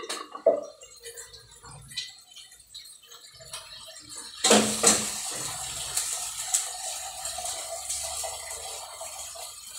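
Water pours and splashes into a cooking pot while chicken tinola with mussels is prepared for lunch, a faint start building into a louder, steady trickling gush after a few seconds, with no talking.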